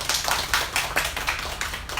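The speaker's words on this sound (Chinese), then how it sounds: "掌声欢迎他" An audience at a talk on Indonesian new-media art in performance welcomes the speaker with clapping, a short run of distinct, close hand claps in an uneven rhythm rather than a dense roar.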